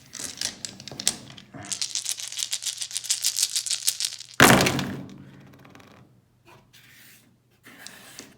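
Twelve dice are rolled during a board game, rattling and clacking in a busy run of small hits, then one loud tumbling crash that fades out into near silence before a few faint clicks return.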